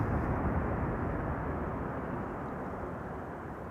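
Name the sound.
landing airliner with thrust reversers deployed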